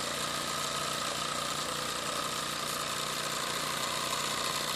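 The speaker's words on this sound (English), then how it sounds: "this is a Mamad TE1A model steam tractor" A Mamad TE1A model steam tractor, built in the UK, runs with a steady, continuous mechanical drone and hum, even in level with no pauses, close by.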